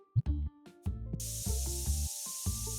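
An aerosol spray hisses in a steady burst of about a second and a half as a customer gets sprayed in TCG Card Shop Simulator, following several short game tones and chimes.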